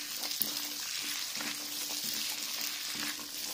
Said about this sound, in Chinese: 再放入蒜苔翻炒均匀，让腊肠的香味和蒜苔完全的融合在一起。